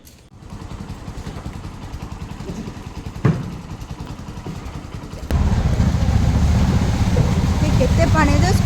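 A scooter riding through floodwater, engine hum under chatter, a sharp splash midway, then a louder, fuller rush of churning water and motor as the wheels push deeper.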